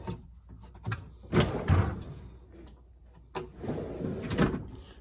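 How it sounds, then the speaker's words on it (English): Slide-out drawers on a 28-inch Harbor Freight tool cabinet glide open and shut, several rolling runs and soft thuds at close range, with no talk. "Slide out drawers are nice."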